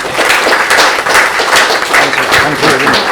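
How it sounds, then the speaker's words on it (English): Audience applause after a talk and demonstration on brain health, a dense wash of clapping across the whole moment at steady loudness, with some crowd noise mixed in. "Can I have a huge round of applause for that"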